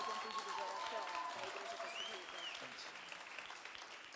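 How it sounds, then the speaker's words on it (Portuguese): An audience in a church applauds, a dense, steady wash of clapping that slowly thins, with a voice faintly over it. "Uma salva de palmas para aqui."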